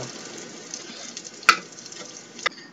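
Peppers and onions fry in a pan with a steady, close sizzle, broken by two sharp knocks of a stirring utensil against the pan.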